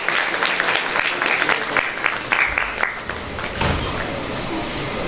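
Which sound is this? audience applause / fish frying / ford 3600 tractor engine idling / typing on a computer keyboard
audience applause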